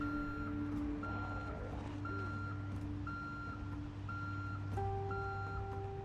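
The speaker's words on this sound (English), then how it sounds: "if it's a work vehicle, you have this stupid fucking beeper going off" A work vehicle's reversing beeper in Project Zomboid sounds a loud, regular series of evenly spaced electronic beeps over a low engine hum, with the pitch shifting partway through and no talking.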